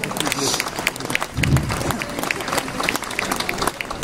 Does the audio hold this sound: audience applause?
yes